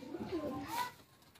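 A single pigeon gives a short, soft coo close by, a quick rising-and-falling call that fades out, with faint background murmur.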